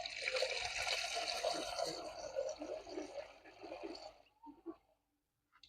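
Water splashes and rushes over a CVT transmission part as it is washed, a steady spray for about four seconds that cuts off into a few faint drips.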